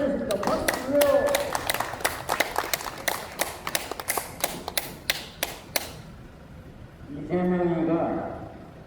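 An audience at a Busan car parade send-off rally claps in a steady rhythm for several seconds, the claps close and crisp, before a voice speaks at the end.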